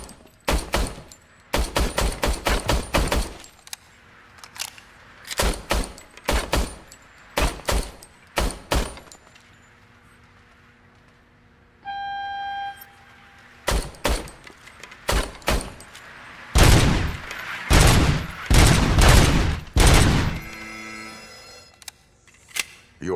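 A police service weapon in Robocop: Rogue City fires at a firing range in sharp, loud bursts of rapid shots separated by short pauses, with a brief electronic tone partway through.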